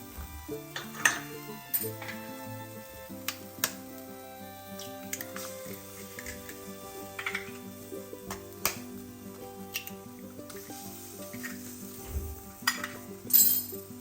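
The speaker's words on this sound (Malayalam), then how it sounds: "ഇതിന് നന്നായി ഇളക്കി കൊടുക്കുക." Bread and beaten eggs are stirred in a pan on the stove, with light scraping and clinking of a utensil against the metal over a soft sizzle, while background music plays throughout.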